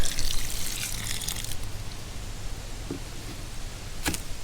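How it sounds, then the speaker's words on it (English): Water poured from a container toward the middle of damp soil in a pot of sweet potato plants, a soft gushing splash for about a second and a half, then quiet with a couple of faint brief taps near the end. "I'm just going to take some water, because this stuff's already pretty damp, and pour it towards the middle"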